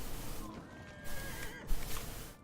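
A horse neighs in the Dragon Age Inquisition video game, a fairly clear whinny with faint hoof clip-clop under steady game ambience, no talking.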